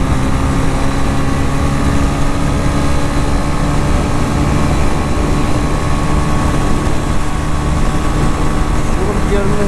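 A TVS Ronin 225 motorcycle accelerates in third gear, its engine droning steadily and loudly under heavy wind rush throughout, recorded from the rider's position.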